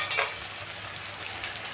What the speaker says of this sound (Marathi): अद्रक लसूणची पेस्ट घेतलेली आहे, ती पण आता कांद्यासोबत आपल्याला परतून घ्यायची